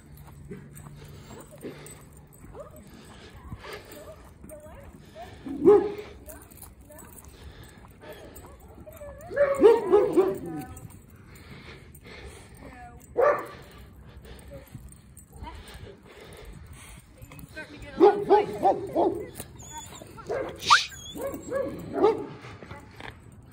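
Dogs bark and whimper in short scattered bursts at moderate distance during horse training, with quiet stretches between and people talking at times.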